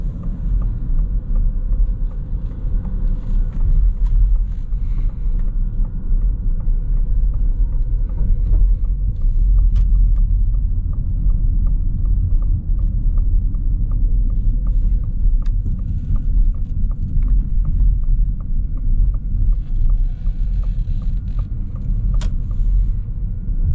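Ford Mustang Mach-E GT Performance Edition electric car driving in one-pedal mode, a steady low road rumble and tyre hum filling the cabin with faint mechanical whine, continuous and fairly loud with no talking.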